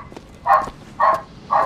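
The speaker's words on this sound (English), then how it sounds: "My dogs are losing their fucking mind." Three evenly spaced barks from a nearby dog in a quick rhythmic run, each short and punchy over a quiet background.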